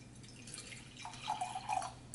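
Water trickles and drips into a clean glass in a quiet room, a soft close pour that rises slightly in pitch toward the end.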